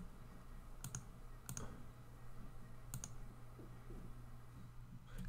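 Quiet computer keyboard typing while adding a note in Google NotebookLM: a few sparse, crisp key clicks spaced a second or so apart over a low steady hum, no voices.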